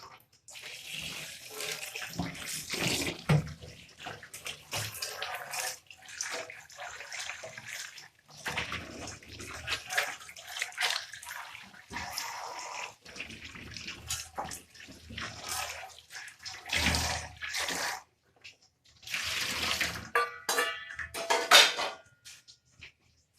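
Dishes and utensils clatter nearby as water runs and splashes in bursts, with pauses between rinses.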